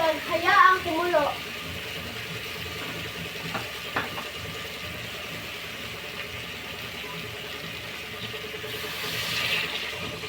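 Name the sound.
water being poured into a pot for cooking adobo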